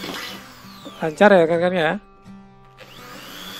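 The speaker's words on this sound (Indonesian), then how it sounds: "Kita bor dengan mata bor besi juga." A Doliz BA632 drill with a metal bit bores into iron, its motor whining loudly for under a second before dropping back, with a person speaking nearby and a lower hum around it.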